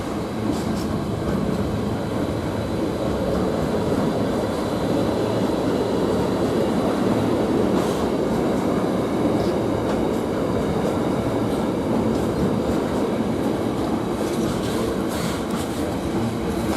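The Flying Scotsman steam locomotive passes through Ely station as a sustained, steady train rumble with wheel and carriage noise, loud and close, filling the whole passage without speech.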